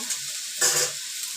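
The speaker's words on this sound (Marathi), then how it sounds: "कढीपत्ता हे असं सुकत भाजायचं हे भाजून घेते" Curry leaves dry-roast in a hot pan with no oil, giving a faint crackling sizzle with a brief louder burst of rustling and stirring midway.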